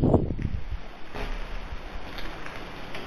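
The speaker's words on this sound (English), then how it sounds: "that wind just picked up too as soon as I said that name" Wind gusting outdoors beside an old mansion house at night, a broad steady rush of air with a stronger buffet at the start, loud and close against the microphone.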